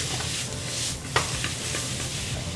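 Zucchini, squash, red pepper and onion tossed in a hot pan, producing a steady close sizzle with scraping stirs and a few clanks of utensils, with no talking.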